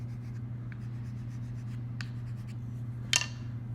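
Paper being rubbed by hand over an inked relief printing block, giving soft, sparse scratchy strokes and one brief louder scrape near the end, close by over a low steady hum, with no talking.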